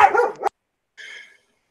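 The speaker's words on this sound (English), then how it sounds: "There go the dogs" A dog barks once sharply at close range, followed after a short silence by a higher, thinner yip or whine; one of three dogs nearby in a house.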